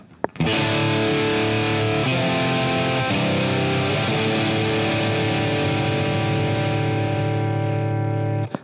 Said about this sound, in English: This is a drive sound we conjured up.